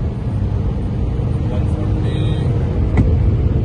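A Hyundai Verna 1.5 Turbo pulling hard in third gear during a drag race, its engine a loud, steady roar from inside the cabin with a continuous rumble throughout.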